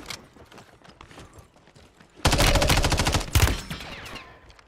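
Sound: gunfire in a video game

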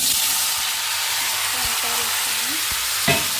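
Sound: tempering frying in hot pan

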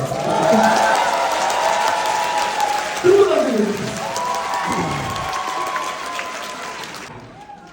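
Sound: audience applause

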